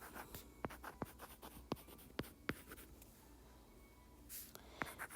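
A pen writes a math formula on paper, quiet scratching strokes broken by a series of sharp taps as each mark lands, close and faint with no voices.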